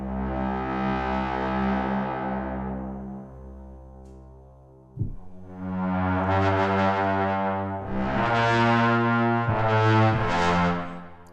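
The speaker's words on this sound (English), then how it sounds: "So the normal sustains sound like this." A large low brass section playing sustained notes from the Strezov Sampling Aleatoric Modular library: a long, deep, swelling chord fades out, then a sharp attack brings in fuller, brassier held notes that rise and pulse in loudness, alone and resonant.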